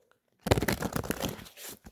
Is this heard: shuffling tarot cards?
yes